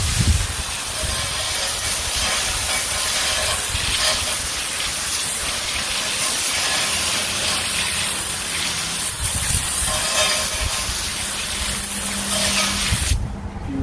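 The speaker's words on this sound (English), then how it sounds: "now we are going to thoroughly rinse." A pressure-washer spray hisses steadily against a car wheel during a thorough rinse, a loud, continuous broadband rush with slight surges and no voices, cutting off sharply near the end.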